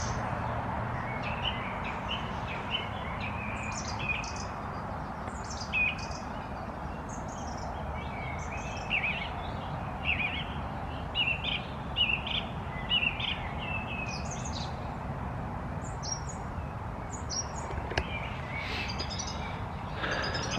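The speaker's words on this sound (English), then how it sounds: "listen to all these birds." Many birds sing at dusk in scattered bursts over a steady outdoor hiss, some sharp tweets standing out, others softer and farther off.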